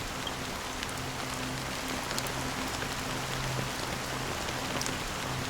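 Steady rain falls continuously, a dense even hiss of drops on a surface with occasional louder splashes, alone with no voices and a faint low hum underneath.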